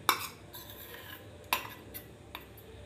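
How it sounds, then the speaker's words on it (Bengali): Flour being mixed with whipped milk cream in a bowl for paratha dough, heard as a few sharp clinks and scrapes of a utensil against the bowl, close and moderately loud with quiet gaps between strokes. "এটা ভালোভাবে মিশিয়ে নিচ্ছি।"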